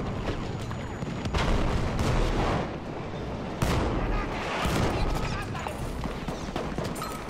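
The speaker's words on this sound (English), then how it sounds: "Heads up, grenades are coming in" Battlefield 1 combat with grenade explosions and gunfire, dense overlapping booms and rattling shots filling the whole stretch, loud and close, with voices talking over the battle.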